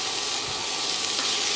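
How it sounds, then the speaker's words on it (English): Garlic and onions sizzle in a hot pan for vegan kimchi fried rice, a loud, steady, close frying hiss that continues without a break. "I don't want the onions to cook very much, but I want the garlic to cook completely."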